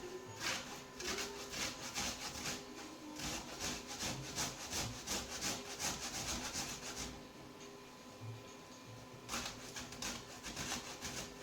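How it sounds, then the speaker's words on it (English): Frozen ginger being grated on a fine grater, a close, steady rasping scrape in rapid repeated strokes with a short pause before the strokes resume. "I'm going to grate up about a tablespoon worth of ginger"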